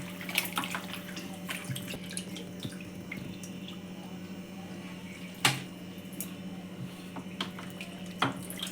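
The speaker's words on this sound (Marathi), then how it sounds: "आता त्याचं मटण सूप बनवणार आहे. तर त्यासाठी धुवून घेऊ चांगलं 2-3 पाण्याने." Mutton being washed in water in a home kitchen, with soft splashing and dripping, occasional clinks of a vessel and a couple of sharper splashes over a low steady hum, quiet and close.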